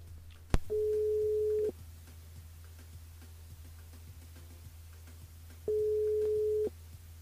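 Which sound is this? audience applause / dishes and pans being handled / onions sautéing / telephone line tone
telephone line tone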